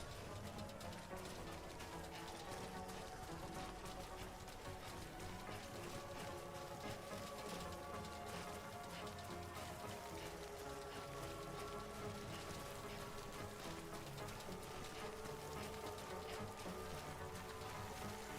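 Steady timefall rain in the video game Death Stranding, a continuous hiss of drops pattering on surfaces throughout, with game music tones layered underneath and no speech.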